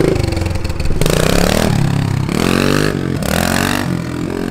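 A four-stroke dirt bike engine revs hard and loud in repeated climbing bursts, with short gaps between the pulls.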